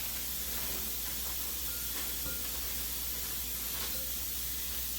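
An Instant Pot cooking potatoes gives off a steady, continuous hiss of steam, unchanging and fairly loud throughout, with no voices.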